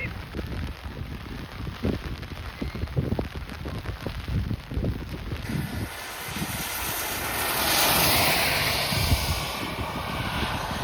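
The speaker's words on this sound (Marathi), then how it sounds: "पाऊस वाढलेला आहे" Rain patters steadily on a surface, joined midway by a broad rushing drone that swells and fades; no one speaks.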